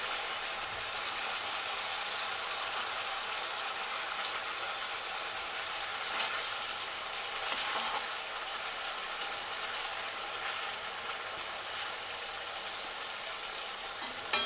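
Ivy gourd masala curry sizzles in a pan as it is slowly stirred, making an even, continuous hiss with faint scraping and no voices.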